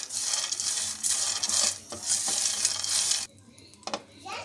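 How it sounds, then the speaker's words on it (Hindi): Peanuts dry-frying in a pan over low heat rattle and hiss as they are stirred in bursts, then the sound drops away toward the end, leaving a few light clinks and scrapes close by. "इसको हल्की आंच पे हमने इसमें फ्राई करना है।"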